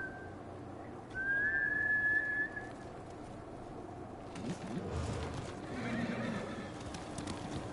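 Horse neighing and hooves in a video game: a bright whinny rises clearly early on, followed by softer clip-clop hoofbeats and rustling, fairly quiet overall.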